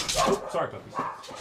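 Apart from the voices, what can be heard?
dog barking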